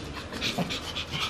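Excited dog panting quickly in short rhythmic breaths, close by and moderately loud, with a faint whimper mixed in.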